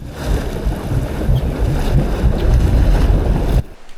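Loud, steady rumble of a sport fishing boat motor mixed with wind buffeting the microphone and water wash, cutting off abruptly near the end.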